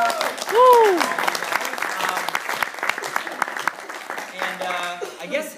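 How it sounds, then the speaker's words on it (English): A burst of applause from a crowd, many hands clapping together for several seconds, with a brief voice at the start. "So, a round of applause."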